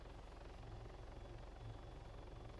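A training helicopter hovering during a flight lesson, its rotor giving a steady, muffled low thudding drone at moderate distance, continuous and unchanging with no voices.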